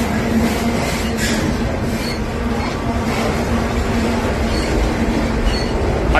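Heavy southbound freight train with a GP60M locomotive and rebuilt NS DPU rolling slowly past nearby: a steady loud roar of wagons and wheels with a sustained low squeal and light clickety-clack throughout, no voices.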